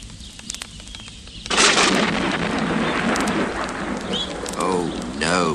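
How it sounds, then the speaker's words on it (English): After a quiet start with faint patter, heavy rain bursts in with a rumbling roll of thunder during a storm, a loud sustained downpour that stays full, with a voice speaking over it toward the end. "Rain and thunder."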